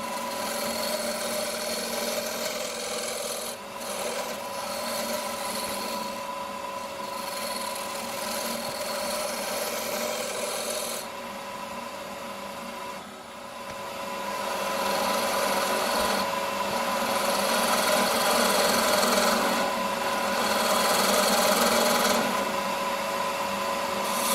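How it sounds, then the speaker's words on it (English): A wooden handle turning on a lathe under a spindle gouge gives a steady, close, continuous rasping scrape, brightening and growing louder in the second half, with no talking. "It's just turning the rest of the handle down to the dimensions I require."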